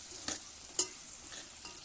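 A spoon mixes tomato pieces with salt in a pan, giving a few soft scraping strokes over a faint, low sizzle, quiet and close with no talking.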